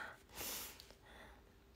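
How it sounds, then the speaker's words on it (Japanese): A young woman with a runny nose gives a short, close nasal sniff in a dressing room, a single breathy burst with no talk. "でずっとね鼻かんどんよ"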